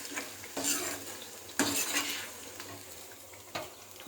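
Ginger garlic paste fries in oil while a spoon stirs it. Bright scraping strokes and metal clinks come in bursts over a continuous close sizzle, with no voices.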